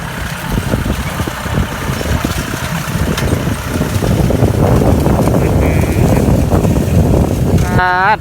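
An Iseki tractor engine runs steadily during sugarcane leaf baling outdoors, a loud continuous low rumble with wind buffeting the microphone and brief higher mechanical whines near the end.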